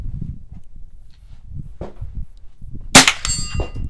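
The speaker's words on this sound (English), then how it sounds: "going to try shooting at 50 yards" A single sharp gunshot at a target 50 yards away cracks out loudly, followed by a short metallic ring, after a stretch of quiet handling noise.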